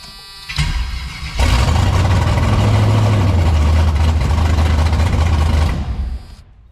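A rebuilt Ford Fairmont car engine cranks briefly, catches and settles into a loud, steady low idle for about four seconds before shutting off, nearby and with no talk.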